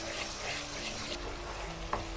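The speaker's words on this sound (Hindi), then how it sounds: "दही ऐड करने के बाद हम इसे दोबारा फ्राई करेंगे।" Spice masala with two spoons of yogurt fries in a pan, giving a soft, steady sizzle across the whole stretch, with a small clink near the end and no talking.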